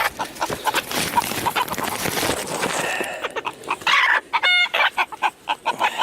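Chickens cluck and squawk up close while their wings are being clipped on an off-grid homestead, starting as a busy jumble of calls and ending in sharp, repeated alarmed squawks.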